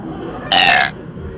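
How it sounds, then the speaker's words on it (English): A cartoon character in an animation lets out a single loud burp lasting under half a second, standing out clearly against faint background noise. "Burping and then"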